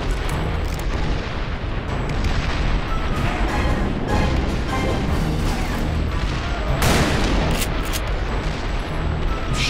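Sniper rifle shots ring out in the Western shooter Call of Juarez: Bound in Blood amid a loud, continuous battlefield roar, with several sharp, booming reports standing out.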